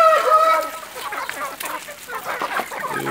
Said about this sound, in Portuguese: eu tô até pisando nas galinhas aqui,